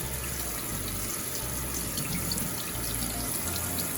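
Soaked beans draining in a kitchen sink, with a steady, close rush of water running continuously throughout and no talking.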